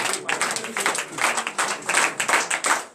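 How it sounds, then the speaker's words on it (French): Crowd applause with scattered clapping at a morning prayer service in Benin, steady and fairly loud throughout, with some cheering voices mixed in. "Donnez de vive acclamation à notre Seigneur."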